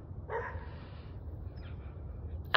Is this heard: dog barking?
yes